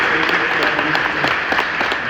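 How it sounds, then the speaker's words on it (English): An audience at a ceremony applauds students who received scholarships, a dense, steady wash of many hands clapping close by, with a voice cutting through faintly. "can we just applaud them again?"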